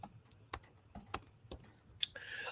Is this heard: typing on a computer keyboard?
yes